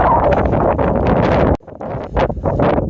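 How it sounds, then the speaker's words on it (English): Strong outdoor wind buffeting a microphone in open farmland near mountains in Utah, loud continuous rumbling gusts that drop out briefly partway through, then return in uneven bursts. "And wind. Lots of wind."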